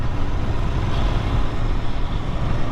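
A Royal Enfield Interceptor 650 motorcycle rolls along in fifth gear while slowing into turns, with a steady engine rumble and road and wind noise blending into a continuous, fairly loud roar.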